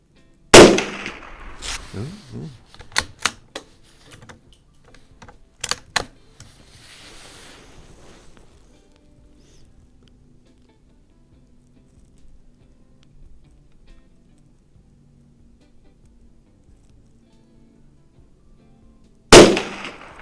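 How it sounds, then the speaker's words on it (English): A Savage Model 93 .22 Magnum rifle with an AccuTrigger is fired outdoors: a loud sharp shot opens, several quick cracks and clicks follow through the middle, then a long quiet gap before a second loud shot near the end. "Always want to be safe when you're shooting stuff that's going to be noisy."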